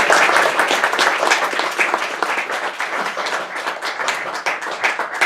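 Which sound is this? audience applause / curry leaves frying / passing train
audience applause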